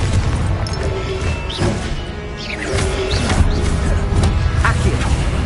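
Confringo explosive spell cast in Hogwarts Legacy on PS5: loud, dense blasts and booming impacts with brief whooshes, layered over continuous rumbling game noise.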